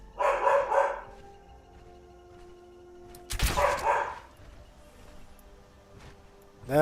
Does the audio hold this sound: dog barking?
yes